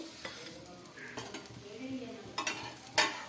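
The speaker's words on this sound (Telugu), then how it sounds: "కొద్దిగా మనం ఇట్లా తిప్పేసుకుంటూ కాల్చుకోవాలండి రెండు వైపులా బాగా" Jowar flour dosa cooking on a hot pan with a little oil, giving a soft, low sizzle and brief scraping and clinking as it is turned, with a couple of sharper metallic taps near the end.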